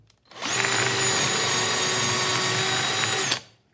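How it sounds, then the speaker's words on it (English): A power drill bores a hole through wood for a cabinet door or drawer handle template, one loud continuous whine lasting about three seconds that starts and stops abruptly, heard close up with no talking. "I'm just going to hold it and drill"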